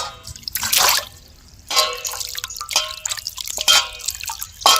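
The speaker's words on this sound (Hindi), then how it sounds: "चलिए सांप के अंडा के बढ़िया से पानी में हम धो लेते हैं।" Peeled snake eggs being washed in water by hand, with bursts of splashing and dripping as the eggs are lifted and rinsed, close and intermittent with short quiet gaps between.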